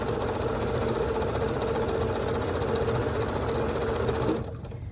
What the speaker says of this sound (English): You're going to sew down 1/4 inch.